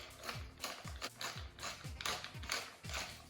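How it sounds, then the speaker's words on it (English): A pepper mill grinds pepper over a Greek meatball mix with an egg, six or seven rhythmic ratcheting crunches in a steady sequence, close and fairly quiet with no voices. "And a good grinding of pepper."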